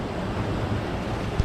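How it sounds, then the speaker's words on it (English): Water spills steadily over a weir into the grit chamber of a sewage treatment plant, a continuous close rushing wash with a brief thump near the end and no talking. "water spills over this weir, and then it goes out to the plant"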